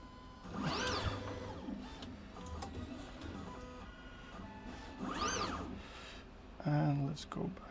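A 3D printer fitted with a ClickChanger tool changer whirs through tool changes, its stepper motors rising and falling in sweeping whines, with mechanical clicks near the end.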